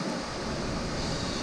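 Kalmandavi waterfall near Jawhar roars in a dense, unbroken wash of water noise, steady and fairly close with no pauses or other sounds on top.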